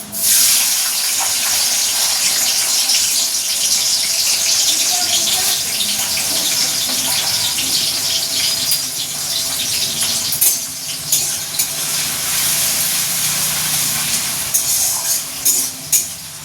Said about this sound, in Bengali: তেল গরমও হয়ে গেছে, চলো পেঁয়াজটা দিয়ে দিই